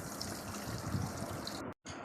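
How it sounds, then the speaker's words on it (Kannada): Water runs steadily from a hose or tap onto garden plants in summer, a close, even gushing rush that cuts off briefly near the end and then resumes. "ನೋಡ್ರಿ ನಮ್ಮ ತಮ್ಮ ಗಿಡಕ್ಕೆ ನೀರು ಹಿಡಿಯತ್ತಾನ."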